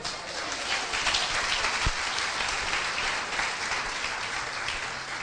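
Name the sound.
applause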